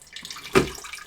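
Distilled water being poured into a Lavazza Classy Plus espresso machine makes a single short splash of water near the middle, close and brief.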